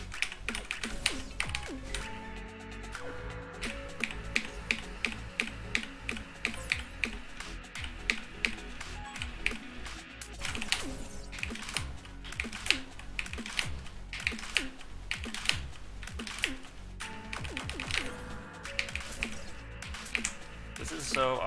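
Rapid, uneven clacking of computer keyboard keys fills the scene as someone steers in a racing game with the keys, close and busy bursts of taps with other sound mixed faintly underneath.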